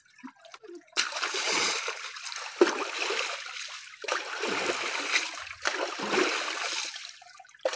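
Water splashes and sloshes in bursts as someone cleans out a spring-water bathing spot outdoors, close and fairly loud, with pauses of trickling between the scoops.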